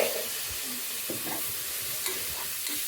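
Ginger garlic paste sautés in oil for a quick biryani, making a continuous close sizzle with a few soft stirring knocks and scrapes and no speech.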